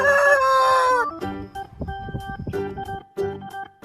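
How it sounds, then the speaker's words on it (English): A rooster crows once, loud and close, in a long drawn-out call, followed by a burst of mixed farmyard clucking and bird calls. "Rooster."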